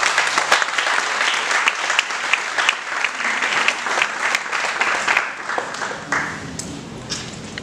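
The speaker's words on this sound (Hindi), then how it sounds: "सभी जो है एक बार जोरदार तालियां इन बच्चों को।" Enthusiastic audience applause for a children's dance performance at an Independence Day celebration, a dense sustained burst of many hands clapping that thins slightly toward the end.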